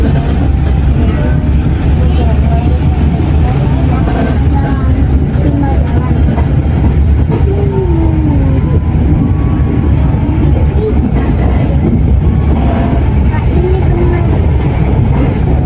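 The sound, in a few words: Walahar local train departing Lemah Abang station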